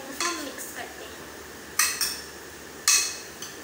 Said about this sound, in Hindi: तो ये हमने अपने फ्रूट्स डाल दिए हैं और हम अच्छी तरह इसको हम मिक्स करते हैं